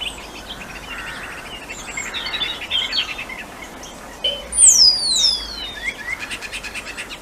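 A starling mimics an oystercatcher's call: a loud, sharp descending whistle near the middle, set among softer chirps and twittering from other birds, with no voices.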